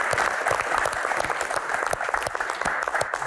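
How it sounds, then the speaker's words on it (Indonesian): A crowd at a rally Q&A event applauds steadily, dense clapping holding at an even, moderately loud level from start to finish. "tepuk tangan. Luar biasa."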